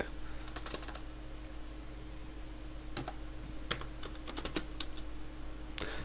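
Light typing on a computer keyboard as a web address is entered: irregular quick clusters of soft key clicks over a steady low hum, close and fairly quiet, with no talking.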